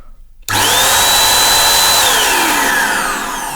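Electric air duster switching on abruptly and blowing a loud, steady rushing stream of air to clean out a computer case, with a faint whine that rises then drops before the blast eases slightly near the end.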